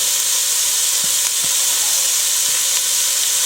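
Two diced onions sizzle in canola oil in a pan, a loud, dense, steady hiss close up with a few faint knocks underneath and no voices.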